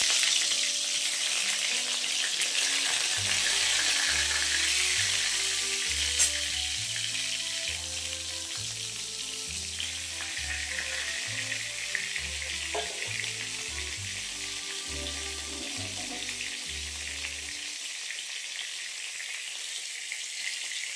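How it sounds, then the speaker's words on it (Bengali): Eggplant slices coated in turmeric and salt fry in hot oil, making a continuous bright sizzle that carries on alone, with a little faint kitchen clatter underneath. "এইদিকে এখন গরম গরম বেগুনটা ভেজে নিচ্ছি"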